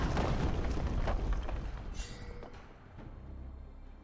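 A deep explosion booms as an inhibitor is destroyed in League of Legends, a loud low rumble dominating the first two seconds and then fading into a duller tail, with no talk over it.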